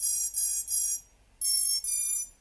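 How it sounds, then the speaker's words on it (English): Loud, shrill electronic beeps from a drone's emergency buzzer in quick pairs, two bursts, then a short pause and two more, with no voices. "That's the beep beeps, the emergency buzzer."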